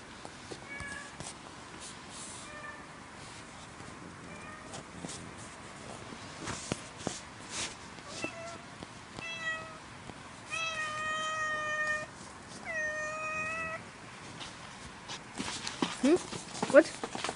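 A cat meows several times in short, rising calls, faint against rain and scattered clatter, with a voice speaking nearby.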